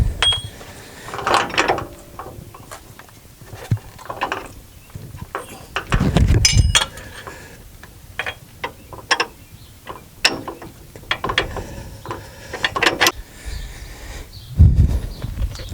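Metallic clanks, ratcheting and rattles of tools and parts come from a bolt being fitted into a front shock mount on a 2017 Ram 1500 4x4 during a drop kit install, close and irregular.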